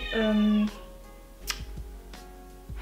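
An indoor cat lets out one loud, drawn-out meow at the start, followed by a few quieter soft sounds and faint thumps in a calm room.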